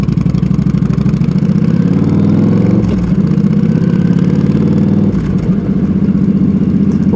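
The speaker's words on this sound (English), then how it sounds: "I'm overly impressed at how this bike's pulling" A Yamaha XVS 1300 cruiser motorcycle fitted with an O2 EFI tuner pulls hard on a ride, its loud, close V-twin rumble climbing and holding through acceleration with a brief dip midway and wind noise around it.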